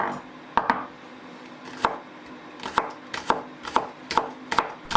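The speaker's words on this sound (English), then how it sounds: "So that's the spring onions getting chopped up" A cleaver chops spring onions on a board, sharp knocks landing sparsely at first and then in a quicker, irregular run, close and crisp with nobody talking.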